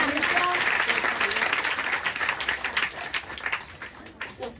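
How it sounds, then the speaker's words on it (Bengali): A congregation at a Christian healing prayer meeting applauds loudly, with many hands clapping in a dense, sustained burst that gradually thins toward the end, alongside faint crowd noise. "জোরসে হাতে তালি"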